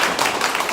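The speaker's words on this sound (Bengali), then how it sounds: "আমরা সবাই একসঙ্গে হাততালি দেব" An audience at an annual general meeting claps together in a short, dense burst of many hands close by, with no voices.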